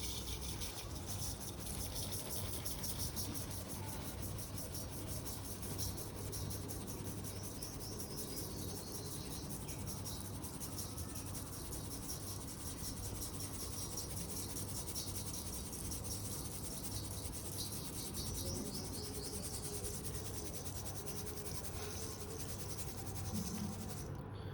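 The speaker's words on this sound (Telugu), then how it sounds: "ఇప్పుడు దీన్ని మనం జాలి కొట్టుకోవాలి." Coarsely ground jowar (sorghum) flour is sifted through a mesh sieve in a soft, continuous, rhythmic rasping and rubbing that stays faint and close throughout, with no talking.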